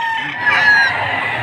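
A rooster crows loudly and close by, one long drawn-out call, at a chicken market in Padre Garcia, Batangas.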